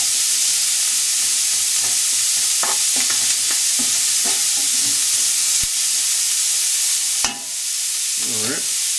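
Diced onion fries in a pan, giving a steady hiss and sizzle with repeated scraping stirs and a sharp clatter near the end, close and with no speech, while collard greens are being cooked.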